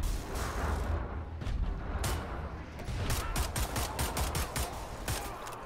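Pistol shots in the Wolfenstein: The New Order video game: sharp, loud reports repeating in a steady, fairly quick series over a busy background of game noise.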